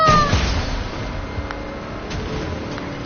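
A person imitating a cat with a loud, drawn-out meow, close and alone, fading over a few seconds.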